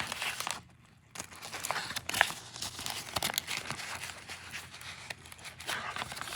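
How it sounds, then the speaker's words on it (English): Paper being tucked and folded into a small cash envelope, with close, soft crinkling and rustling throughout and a brief quiet gap near the start. "And I'll tuck this just a little bit so it fits in this cute little envelope."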